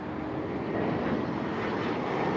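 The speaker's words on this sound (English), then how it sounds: "Top Air Portugal's Embraer landing." A TAP Air Portugal Embraer airliner landing at Lisbon gives a steady, broad jet roar at a moderate distance, continuous throughout with no speech.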